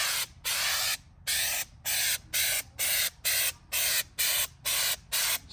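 Repeated short bursts of drywall texture sprayed from an aerosol can, about a dozen hissing blasts in an even rhythm with brief gaps between, loud and close with no talking.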